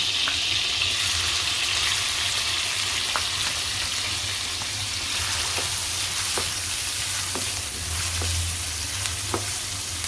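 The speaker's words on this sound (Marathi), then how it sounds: "दोन चम्मच तेल घेतलेले आहे एक चम्मच बटर घालते तेलामध्ये कांदा घालते" Onion fries in oil and butter for pav bhaji, giving a constant close sizzle with scattered spatter pops and light stirring scrapes throughout, no voices.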